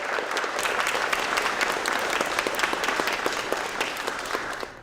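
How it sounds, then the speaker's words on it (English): Dense, sustained applause from an audience at an art show honors the competition jurors, a continuous roar of many hands clapping that holds steady and fades slightly at the close. "Please give them a round of applause as they have a difficult task ahead of"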